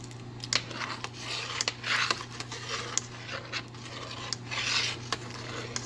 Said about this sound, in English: Stir this continuously until it boils.